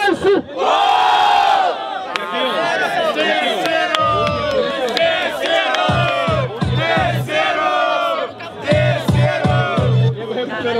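A crowd at a Brazilian freestyle rap battle in São Gonçalo cheers, chants and shouts in loud, surging waves, with a voice calling out over the noise.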